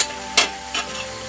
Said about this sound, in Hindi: थोड़ा सा फ्राई हो जाने देते हैं सारी चीज़ों को। ये प्याज गुलाबी हो जाए